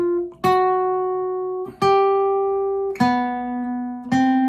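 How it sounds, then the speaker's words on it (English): Guitar notes fretted one after another in a smooth legato line, four clean plucked notes each ringing on into the next with no gap, close and clear with no voices. "You're listening for a smooth transition from one note to the next."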